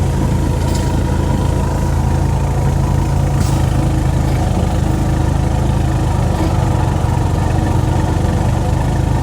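The 17.5HP engine of a tow-behind mower runs loud and close with a steady, unbroken drone while cutting, and no voices are heard.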